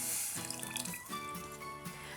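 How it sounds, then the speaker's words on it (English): Coconut milk pours in a continuous liquid trickle into a pot of corn soup, faint and close, with a soft gurgling flow that lasts about two seconds. "I'm going to add some coconut milk"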